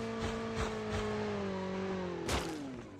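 Motorcycle engine in Call of Duty Mobile, revving in a sustained droning tone that dips in pitch, with a sharper burst near the end, close and loud.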